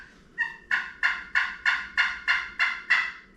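A diaphragm turkey call blown as a gobble: a brief opening yelp followed by eight sharp, evenly spaced rattling bursts, close and clear with no talking.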